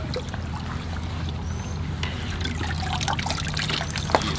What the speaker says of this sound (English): so it'll siphon right out, right?